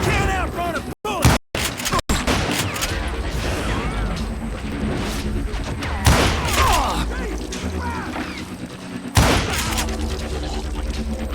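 Gunfire in the Western shooter game Call of Juarez Gunslinger, a loud dense barrage of shots and booms that keeps going, with brief dropouts early on and sharp bursts standing out midway and near the end.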